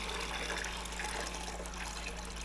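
Liquid, likely oil by the quart, pours steadily into a tractor engine, a faint continuous trickling wash under a low steady hum, with no talk.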